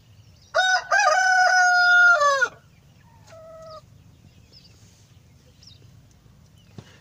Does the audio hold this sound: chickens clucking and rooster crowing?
yes